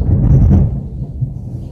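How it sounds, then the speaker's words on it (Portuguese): Thunder during a storm, a loud low rumble that swells briefly and then fades into a lingering murmur, heard alone without speech. "Acabou de dar um pontapé de trovão aqui."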